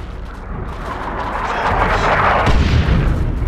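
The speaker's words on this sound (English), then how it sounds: "Launch barrage! Artillery! Clear the area!" An artillery barrage in Warhammer 40,000: Dawn of War 2: a swelling roar of shells building to heavy, rumbling impacts near the end, loud and broad with no voices.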